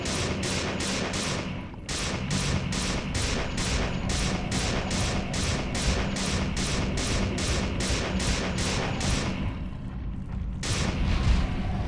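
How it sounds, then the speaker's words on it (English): Sustained rapid gunfire from System Shock 2, a dense rattling fusillade running almost continuously, with a brief dip near the start and a short break toward the end, loud and close. "I guess it's just a matter of"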